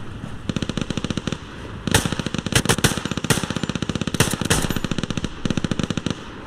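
Sustained rapid machine-gun fire rattles at close range in Hell Let Loose on Omaha Beach, aimed at a Sherman tank crew, with dense rhythmic cracks and louder impacts layered throughout.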